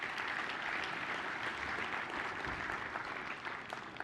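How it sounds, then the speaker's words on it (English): A conference audience applauds the panelists and sponsors after a session on Indo-Pacific allies and readiness, a dense, steady wash of clapping from many hands that continues evenly throughout. "Please give a round of applause for our panelists and our sponsors today."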